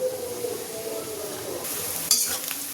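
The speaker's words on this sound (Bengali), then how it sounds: "পেঁয়াজগুলো ভাজা হোক।" Onions frying in a pan with ginger, green chilli, garlic and peppercorns, a steady close sizzle with a low hum, then brief metallic scrapes and clinks of a utensil near the end, no speech.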